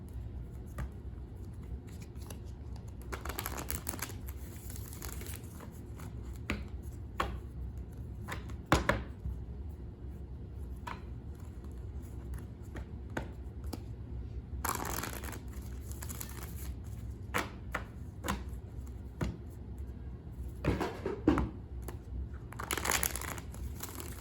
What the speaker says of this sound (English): Okay, so let's get a few more tarot cards. I'm gonna give this a shuffle.